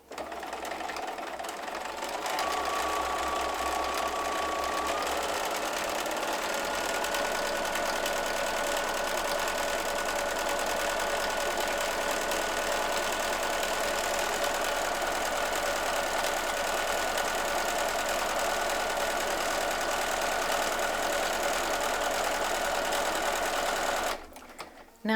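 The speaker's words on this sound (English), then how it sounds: "I am gonna hold on to my tails and start sewing." A sewing machine stitches zipper pulls for a project bag, with a steady, continuous mechanical whir and rapid needle clatter running close and unbroken for about twenty-five seconds before stopping.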